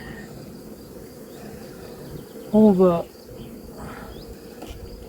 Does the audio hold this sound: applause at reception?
no